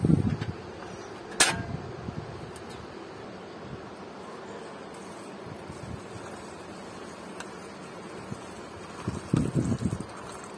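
Gusty outdoor wind buffets the microphone in steady rushing bursts, louder at the start and again near the end, with no talking.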